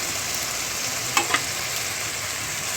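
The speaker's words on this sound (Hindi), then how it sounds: "साइड चेंज करने के बाद दूसरे साइड से भी इसी तरीके से अच्छे से फ्राई कर लेंगे" Large beef steak pieces fry in a pan, pressed down and flipped to cook through, giving a steady close hiss of sizzling fat with two quick sharp ticks midway and no voices.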